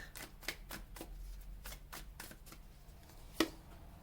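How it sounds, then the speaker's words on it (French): Tarot cards dropped and gathered by hand, a quick series of soft papery slaps and shuffling flicks through the first second and a half, then scattered light handling, and one sharp louder card snap near the end, close and fairly quiet. "Pardon, j'ai fait tomber des cartes."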